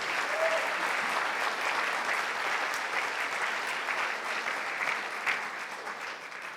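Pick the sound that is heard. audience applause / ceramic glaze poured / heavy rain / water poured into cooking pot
audience applause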